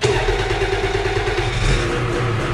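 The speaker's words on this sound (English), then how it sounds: "then it's time to fire up the 600 EFI." Ski-Doo 600 EFI snowmobile engine running just after start-up, a steady loud mid-pitched two-stroke idle with a rough low throb throughout.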